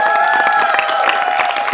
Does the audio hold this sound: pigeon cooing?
no